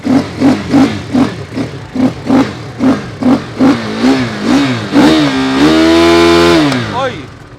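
A single-cylinder sport motorcycle engine is blipped in a series of short, punchy revs, then held in one long, loud climbing rev before dropping back, all close by.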